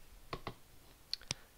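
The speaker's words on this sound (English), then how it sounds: "let's type in the root password" A handful of soft, quiet keystrokes on a computer keyboard as a root password is typed, in two small clusters of clicks about a second apart.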